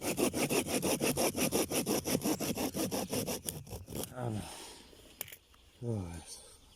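A Bahco Laplander hand saw rasps through wet wood in steady, rapid back-and-forth strokes, then stops; a few scattered knocks and a voice follow.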